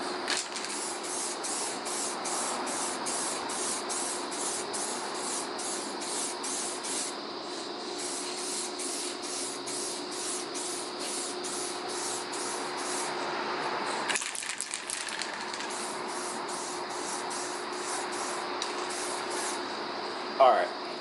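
A spray gun lays the third and final paint coat on a car, a steady close hissing spray running throughout, broken by rapid rhythmic trigger pulses and a brief pause partway through.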